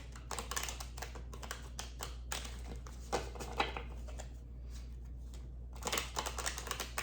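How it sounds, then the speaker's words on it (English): A tarot deck being shuffled, with rapid bursts of crisp card riffling and light flicking, close and fairly quiet, in short clusters separated by brief pauses. "Let me just do a quick shuffle."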